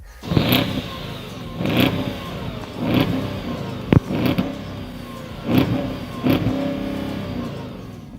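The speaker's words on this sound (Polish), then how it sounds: "Posłuchajcie jeszcze dźwięku silnika, bo taki został wysłany." A 2006 Mazda MX-5 engine revs repeatedly in bursts, about six throttle blips spaced roughly a second apart, with a sharp click midway, no talking.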